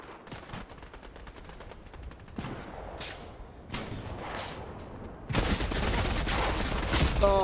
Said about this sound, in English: Oh, we took some heavy fire there.